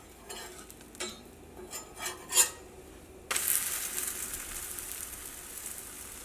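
A wheat dosa being turned over in a pan with a spatula, giving a few light scraping clicks and then a steady soft sizzle of frying for the rest of the time, close and moderately loud.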